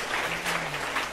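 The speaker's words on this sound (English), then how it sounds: "Give applause to Professor Umar Muhyiddin and Professor Lee." At an academic conference in Malang, an audience gives a short burst of applause for visiting professors, with dense clapping that is moderately loud and steady and has no speech over it.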